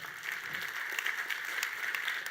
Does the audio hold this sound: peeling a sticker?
no